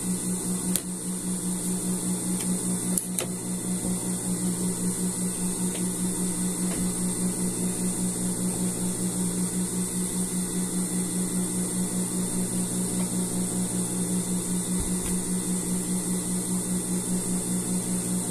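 An overlock sewing machine finishes a shoulder seam on a men's sweater with a continuous, even motor whir and a steady buzzing hum. It runs close and uninterrupted throughout with only a couple of faint clicks, and no one speaks.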